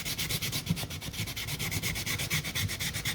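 Sandpaper rubs back and forth over a varnished wood edge in quick, even strokes, close and rhythmic, with no voices.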